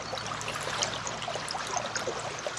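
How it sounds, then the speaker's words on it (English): Creek water rushes and gurgles steadily over rocks in a continuous bright wash, close and even throughout with no voices. "to moving water, really moving water"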